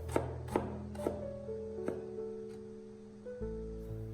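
A knife chops through peeled old ginger on a cutting board, a handful of crisp close taps spaced about half a second apart, then a few quieter cuts, with no talk.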